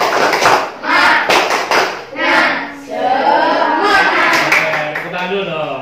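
A group in an Indonesian classroom performs a rhythmic spirit clap, bursts of hand clapping in a set pattern, closely mixed with voices chanting along, loud and near.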